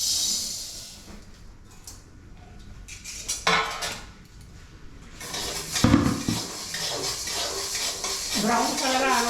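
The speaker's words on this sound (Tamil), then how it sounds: "இது உளுந்த பருப்பா போட்டு வறுக்குங்க" Urad dal tossed and roasted in a metal pan, with scraping, clinking utensil strikes and light rattling against the pan, some louder knocks midway, and a voice speaking near the end.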